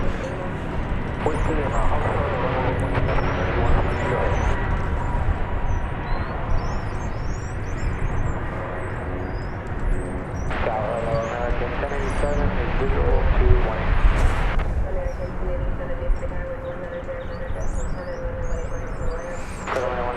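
A Qatar Airways airliner from Doha roars steadily at DFW airport, its broad engine rumble loud and continuous with rising and falling tonal whine, while people talk intermittently over it.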